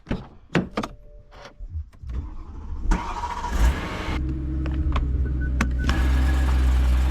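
A BMW E92 M3's door shuts and the engine starts, then a steady motor hum builds and holds as the car gets under way.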